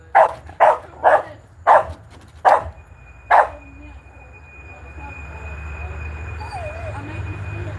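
A dog outdoors in a park barks six times in a quick uneven series, loud and near, before the barking stops and a low rumble of distant aircraft or traffic fills the rest.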